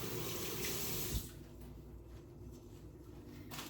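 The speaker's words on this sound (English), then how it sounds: "Wash your hands." Tap water runs into a kitchen sink for hand washing, a loud steady gush that cuts off about a third of the way in, leaving quieter rustling and faint handling sounds.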